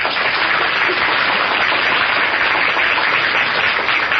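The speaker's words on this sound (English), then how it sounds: "give the cast the volume of applause they deserve" A studio audience gives the cast of The Shadow radio drama loud, continuous applause, a dense, steady wash of clapping with no pauses.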